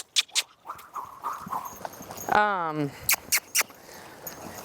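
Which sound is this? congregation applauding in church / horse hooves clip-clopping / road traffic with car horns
horse hooves clip-clopping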